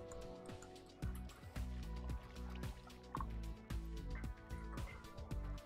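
Water buckets being filled in Minecraft, soft repeated dripping and sloshing splashes every half second or so over a quiet low background hum, no voices.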